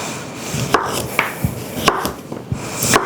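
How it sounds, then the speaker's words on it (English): Squash and zucchini sliced into rounds on a cutting board: a string of about six sharp, close knife thunks at a steady, unhurried pace, with light rubbing between cuts. "all I'm gonna do with these squash and zucchini is cut them into rounds"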